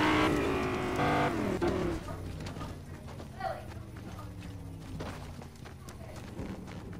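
A car in the Fortnite video game, its engine note rising and shifting in pitch as it moves, loud at first and then settling into a steady hum with game effects layered over it.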